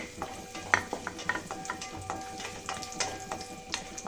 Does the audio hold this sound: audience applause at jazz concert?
no